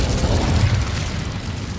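An Incendio fire spell cast in Hogwarts Legacy, a loud rumbling whoosh of flame with a deep booming burst that swells and then fades over a couple of seconds.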